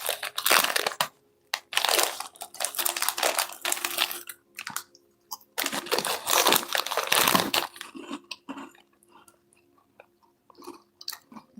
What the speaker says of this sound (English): I found a snack. Something sweet. Some chestnut butter cookies.